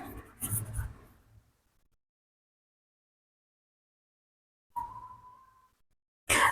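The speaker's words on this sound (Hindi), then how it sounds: "तो यहाँ पे इतने वर्ड्स लिख लिए मैंने, और मैं लिखने वाली हूँ।" A pen scratches words onto paper in short, close bursts separated by long silences, with a faint squeak on one stroke.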